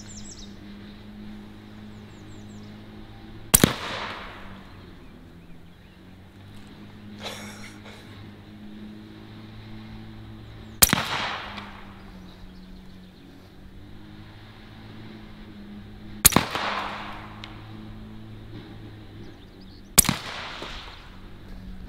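A Western Rattler bullpup air rifle fires four separate shots of pellets and slugs, including a 125 grain slug, each a sharp crack with a short echo, spaced several seconds apart over a quiet background hum.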